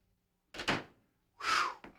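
A front door at a house bangs shut in two quick thuds, a short knock followed by a louder closing thump and a small rattle, with no voices.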